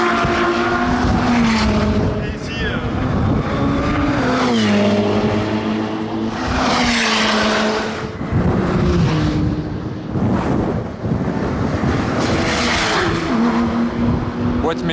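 Aston Martin V12 race car with a manual gearbox screams around the Circuit Paul Ricard, loud engine howls rising and dropping through upshifts and passes, joined by other cars, while someone talks over the noise.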